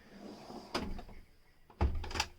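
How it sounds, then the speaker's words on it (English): A deep drawer in a Dethleffs T8 motorhome slides out with two firm knocks and a rattle, close and fairly quiet, with no talk. "I'll pull out one drawer"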